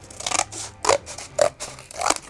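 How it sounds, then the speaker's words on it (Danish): Scissors snip through a strip of brown cardboard in four short, crisp cuts spaced about half a second apart, close up and with no voices. "Først så klipper jeg en strimmel"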